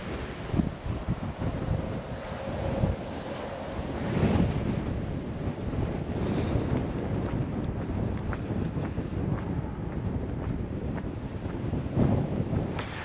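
A strong breeze buffets the microphone on an open hill trail, with steady low rumbling gusts that swell and ease throughout and no voices.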